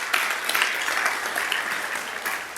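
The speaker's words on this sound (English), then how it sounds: "So let's give yourselves a round of applause." A large audience applauds at an event in New York City, a dense, steady wash of clapping that holds at an even level throughout, with no pauses or lulls.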